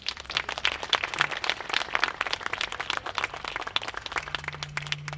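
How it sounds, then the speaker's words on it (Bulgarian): Summer evening outdoor audience at a Shumen arts event applauding to welcome classical guitar performers, a moderate, fairly sparse patter of many hands with distinct individual claps, plus a low hum near the end. "Да ги поканим на сцената с аплодисменти."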